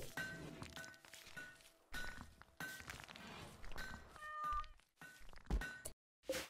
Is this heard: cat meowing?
yes